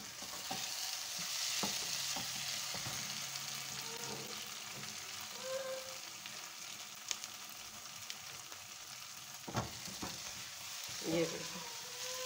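Fenugreek leaves are stirred into masala frying in a pan, with a soft continuous sizzle under scraping stirs and a few sharper knocks from the spoon against the pan.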